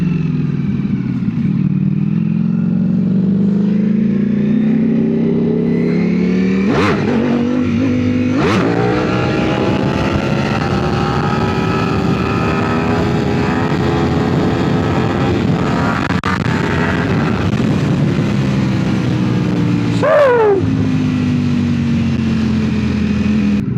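A rare Ducati Panigale V4 sportbike being ridden, its engine droning steadily and rising in pitch through several sharp revs and gear changes, loud and close with no talking.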